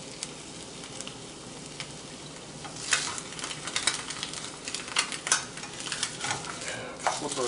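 Eggs, one fresh and one store-bought, fry in a pan and are cooked over hard under a steady sizzle, with spatula scrapes and clicks growing busier and louder partway through.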